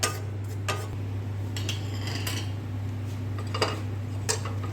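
A metal spoon stirs and scoops thickened, reduced milk for malai kulfi out of a pan just taken off the flame, giving scattered clinks and scrapes over a steady low hum.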